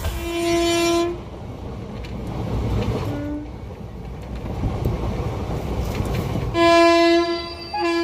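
The Howrah–Chakradharpur Express passenger train rumbles along steadily after leaving Howrah station at night, with loud sustained horn blasts at the start and again near the end.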